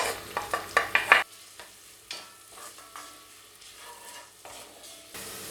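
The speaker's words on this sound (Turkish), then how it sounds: "Soğanlarımı biraz kavuracağım." Onions sauté in a pot, starting with several quick scraping stirs, then a steady soft crackle with occasional clinks.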